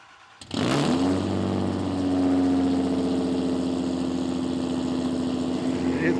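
A Toyota Supra 5MGE engine fires up and settles into a loud, steady high idle after a cold start, a close continuous drone with a faint brief voice at the start.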